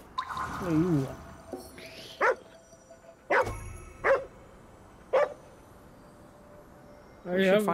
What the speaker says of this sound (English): Another dog somewhere.